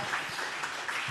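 A church congregation at a JMCIM preaching service bursts into loud, dense applause, many hands clapping together in a continuous close roar.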